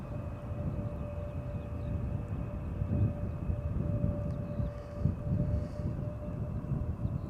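An Embraer 190 arriving from Brussels at Amsterdam Schiphol Airport makes a distant, steady low roar with a faint sustained whine, and no one speaks.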